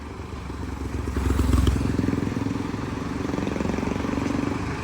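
Two motorcycles pass on a road during a group ride in Bicol, their engines a steady rumbling drone that swells midway and stays loud and near throughout, with no talking.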